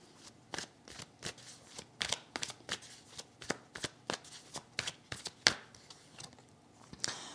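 Tarot cards handled and laid down during a reading, heard as a series of crisp, close slaps and shuffling snaps at irregular intervals, with no one speaking over them.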